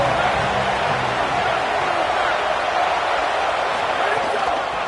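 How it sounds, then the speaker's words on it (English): A packed stadium crowd at a Michigan versus Iowa college football game cheers and roars in a loud, continuous, dense wash of noise that holds steady throughout. "This crowd ready to make its presence known."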